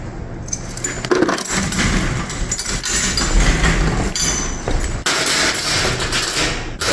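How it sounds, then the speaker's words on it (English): A bunch of keys jangles and clinks for several seconds at a laundromat, close and loud, with rattling metallic bursts and a brief pause near the middle. "That's the wrong keys."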